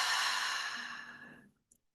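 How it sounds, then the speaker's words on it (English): A single long, breathy open-mouth exhale at the end of a guided nasal breathing exercise, close and soft, tapering off over about a second and a half into silence, with a faint tiny click just after. "Inhale through our nose for a count of 4. 3, 2, 1. Open mouth exhale."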